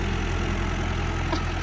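A tractor engine runs steadily at close range, a low, even rumble with no voices over it.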